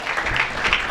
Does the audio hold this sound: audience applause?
yes